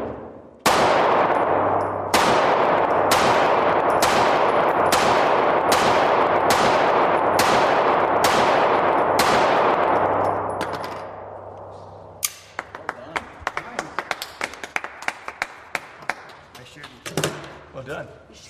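Ten loud pistol shots ring out in a steady rhythm on a shooting trail, each a sharp crack with a short decay, followed by a stretch of faint scattered clicks and taps.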